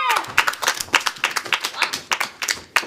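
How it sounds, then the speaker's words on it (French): An audience claps at a school theatre show, a close, irregular patter of hands rising and falling for a few seconds. "Pour nos 3 premiers suspects, je vous demande d'applaudir Bobby, Cindy Pat et Momo."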